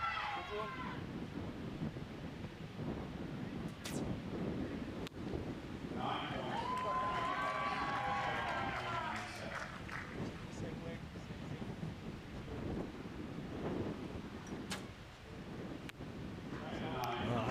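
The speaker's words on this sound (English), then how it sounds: "We've got that bit of wind, haven't we, blowing around" Gusty wind buffets the microphone at an outdoor archery arena during a recurve men's quarterfinal, a steady low rumble running throughout beneath a commentator's voice.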